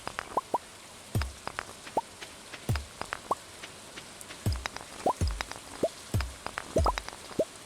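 Rain falls in the Stardew Valley video game: soft, irregular water drops and plops with a faint patter beneath, steady and fairly quiet, with no talking.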